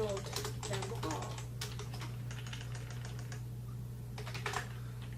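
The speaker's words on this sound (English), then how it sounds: "Let's go ahead and type." Rapid keystrokes on a computer keyboard clatter in bursts with a short pause partway through, close and moderately loud over a steady electrical hum.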